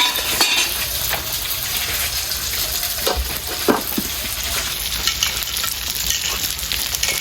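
Thick eggplant slices frying in hilsa fish oil, a dense continuous sizzle and crackle close by with occasional utensil scrapes and stirring, steady throughout.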